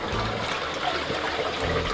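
Toilet flush and cistern refill in a Japanese bathroom, heard as a steady, close rush of gurgling water running continuously without pause.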